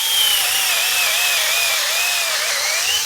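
Loud, continuous whine of a cheap Genesis 12V lithium-ion cordless drill boring into wood, its pitch wavering slightly as the bit bites, close up with no talking.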